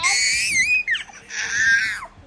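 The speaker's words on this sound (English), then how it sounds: "Stop the screaming! Stop the noise!" Young children scream in shrill, piercing bursts, one long wail bending downward, then a second sustained shriek after a brief break, close and loud with no adult speech.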